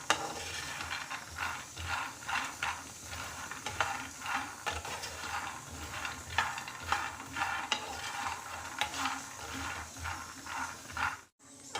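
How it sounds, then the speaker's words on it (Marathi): Peanuts dry-roasting in a pan while being stirred, a continuous rattling, scraping rhythm of nuts shifting against the metal, close and fairly even, with no voices. "मी हे शेंगदाणे टाकलेले आहे आणि याला छान खरपूस भाजून घेऊया आपण"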